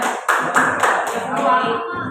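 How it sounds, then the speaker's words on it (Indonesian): Students in a school classroom clap their hands in several quick bursts of applause with audible tapping hits, while voices speak over the clapping. "Oke, tepuk tangan buat laki-laki."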